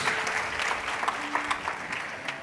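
Applause from a church congregation, a steady broad clatter of many hands clapping that fills the whole stretch at moderate level.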